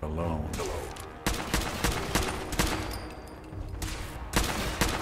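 Bursts of gunfire in Fallout 4, sharp repeated shots in uneven clusters over several seconds, close and fairly loud, with game sounds between bursts.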